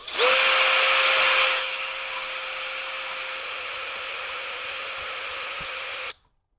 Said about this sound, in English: even though the drill motor is noisy